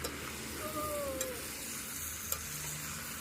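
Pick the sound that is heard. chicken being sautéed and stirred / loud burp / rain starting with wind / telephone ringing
chicken being sautéed and stirred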